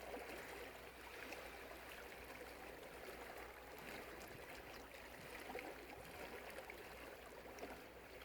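Water washes steadily along a shoreline in a continuous, even rush, close and moderately loud with no breaks and no voices.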